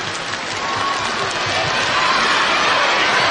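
An audience claps and cheers at a live show right after an on-stage marriage proposal, a dense, steady wash of applause that stays loud for the whole stretch, with crowd voices blended into it.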